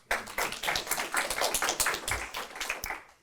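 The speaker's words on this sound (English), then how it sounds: "Thank you a lot, and big applause to Krzysia." A small group claps for a few seconds at a product management talk, uneven and fairly close, with no talking.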